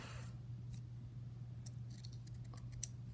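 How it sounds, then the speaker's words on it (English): Scissors cut a piece of paper in half for a craft with a few quick, crisp snips over a low steady hum in a quiet room. "So what I'm gonna do is I'm actually gonna cut this in half."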